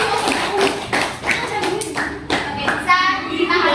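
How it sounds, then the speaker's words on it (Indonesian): A group claps in applause in a classroom, a brisk burst of hand clapping with some faint voices mixed in. "Tepuk tangan buat Mas Rajin."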